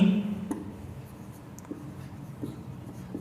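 A pen scratches across paper while working through a linear equations problem by the inversion method, soft continuous strokes with a few faint taps, quiet and close with no talking.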